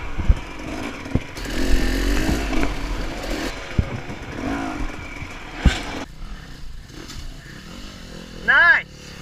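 Dirt bike engine revving and droning through a trail ride, loud and close, with a sharp high rev burst near the end; people shout and talk over it.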